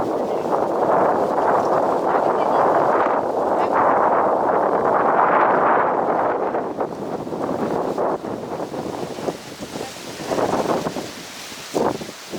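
Strong wind gusts across an outdoor microphone on a nature and wildlife adventure outing, a loud rushing roar that eases after several seconds into lighter, intermittent buffeting.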